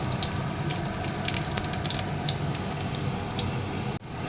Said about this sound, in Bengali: এই তেলের মধ্যে এখন আমি দিয়ে দেবো জিরে আর একটা শুকনো লঙ্কা ফোড়ন